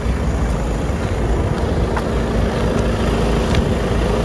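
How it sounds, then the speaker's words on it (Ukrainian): A 2021 Skoda Octavia A8 engine idles in a steady, low, even hum that holds for the whole moment, with no voices over it. "Увага, двигун працює."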